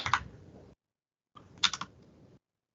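Two short bursts of clicky typing on a computer keyboard, close and fairly clear, separated by a brief silence.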